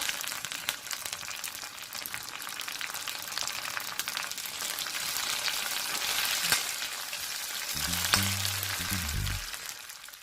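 Coriander frying in a pan as a tempering for thalisa, a steady dense sizzle running throughout, with a few low clatters of stirring near the end; no talk.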